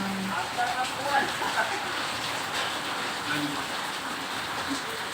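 Steady rain hissing across the whole clip, a dense broadband wash with voices faintly talking underneath.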